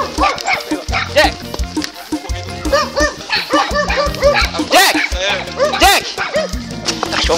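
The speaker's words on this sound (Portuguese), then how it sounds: "Sai pra lá, cachorro!" A young farm dog yips and barks repeatedly in quick, close bursts with some whimpering, mixed with people shouting and calling nearby.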